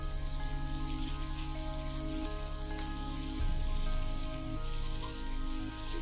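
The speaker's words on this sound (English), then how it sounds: "I've lightly drizzled some oil onto a pan to which I'm directly placing the patties for" Chicken burger patties sizzle and crackle in lightly oiled pan on the stove, a steady close frying hiss with scattered pops, alone without talk throughout.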